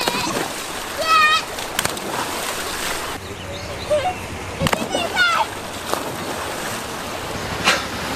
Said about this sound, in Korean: 지금 화산재 같이 씻겨 내려오는 물에 다이빙하면서 놀고 있어요.